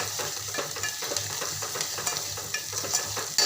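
Garlic paste frying in oil in a pan for a spicy vegetable dish, a dense continuous sizzle with quick repeated stirring scrapes, loud and close, no voices.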